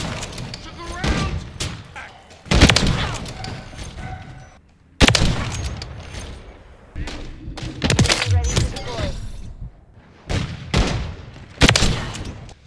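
Sniper rifle fire in a first-person shooter video game, with a fast sniper such as the XRK Stalker: repeated loud, sharp cracks with rumbling tails at irregular intervals, mixed with other game noise.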